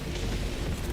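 Artillery barrage explosions in the video game Helldivers 2 rumble as a dense, continuous roar of booms, loud and sustained with no talk.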